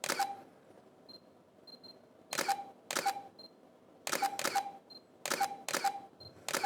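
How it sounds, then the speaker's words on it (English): A camera shutter clicks repeatedly in sharp bursts, some in quick pairs, with faint electronic beeps in between. "Oh, that's a shutter"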